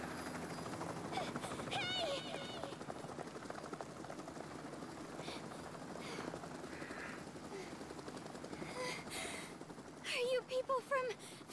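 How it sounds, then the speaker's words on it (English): In a Danganronpa video game scene, a helicopter drones with a steady rotor thrum beneath quick game effects and a voice talking. "That's a helicopter."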